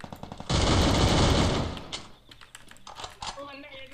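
A sharp burst of rapid automatic gunfire erupts during a Free Fire Clash Squad ranked match and lasts about a second, followed by scattered shots and clicks as a voice speaks at the end.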